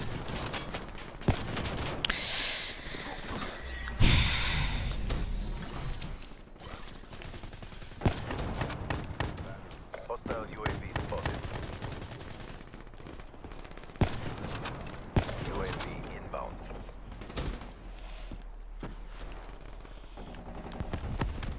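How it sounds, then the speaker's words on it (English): Gunfire fills a Black Ops 3 online match, with sharp sniper rifle cracks standing out among dense rattling shots and explosions, loud and busy throughout with a few strong isolated reports. "you'll see that I'm using a sniper. And I'm quickscoping"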